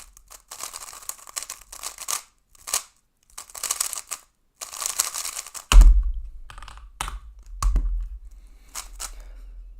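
Rapid clacky typing on a Keychron K8 computer keyboard, fast bursts of keystrokes with short pauses, followed by a few heavier thumps and clicks near the end.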